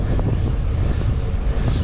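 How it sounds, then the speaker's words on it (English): Strong wind buffets the microphone in a steady low roar while cycling through a park in Davenport, continuous and close, with no voices. "It is really windy today."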